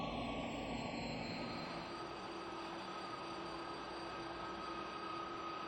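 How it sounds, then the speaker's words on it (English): A 15-year-old Boeing 747-400 extended range freighter taxis toward the runway, its jet engines producing a steady, loud, continuous roar with a high whine on top, unbroken and alone with no voices. "Flight 916 taxis into runway 21."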